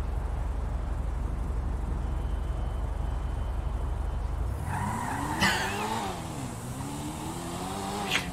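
A car in the video game GTA roleplay drives with a steady engine roar, then its tires skid and squeal in wavering, rising and falling tones over several seconds, with a sharp knock partway through.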